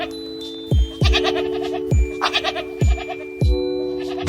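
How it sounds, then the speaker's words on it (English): A goat bleats loudly and nearby, giving five or six harmonic cries in a row with short gaps between them, alone with no voices. "we heard a loud bleating."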